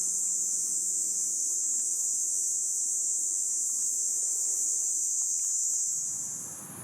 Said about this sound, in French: la forêt côtière où les cigales chantaient